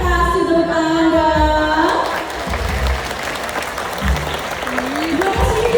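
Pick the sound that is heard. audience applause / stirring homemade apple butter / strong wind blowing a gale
audience applause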